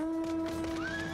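A horse neighs in the video game Final Fantasy XIV, a short whinny that rises late against sustained tonal game sounds, with no talking.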